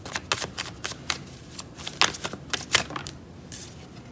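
A deck of oracle cards being shuffled up close, quick riffling bursts of papery flutter repeating rapidly over a few seconds, with no talking.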